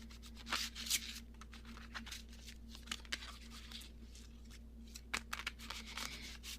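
Soft, quiet riffling and rubbing of cards in short bursts over a steady low electrical hum.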